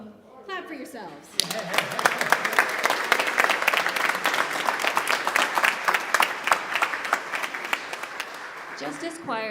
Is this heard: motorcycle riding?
no